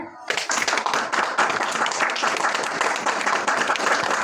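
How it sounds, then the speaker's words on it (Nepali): A church congregation at a Christmas gathering clapping together, a dense sustained burst of many hands that starts abruptly and continues at steady volume, with voices mixed in. "ताली बजाउनु होला।"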